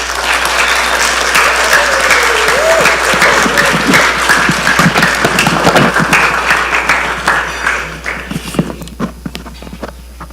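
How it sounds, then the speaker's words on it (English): A room full of people at an annual parish meeting gives a sustained round of applause for the Parish Life team. The dense clapping is loud and steady, then thins into scattered claps near the end. "let's give Kathy Stites and the Parish Life team one more round of applause"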